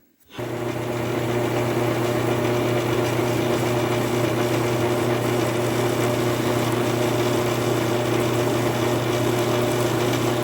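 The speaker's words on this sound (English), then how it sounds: "First step, we'll center drill it." A drill starts abruptly and runs at a steady, loud mechanical whir and hum, center drilling metal on a Land Pride RB1660 blade, unbroken throughout, with no voices.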